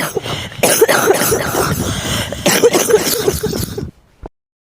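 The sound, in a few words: coughing in a horror cartoon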